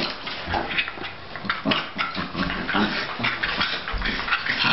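Two Cairn terriers play rough together, giving off continuous close growls, snarls and grumbling noises with occasional whimpers, loud and busy throughout.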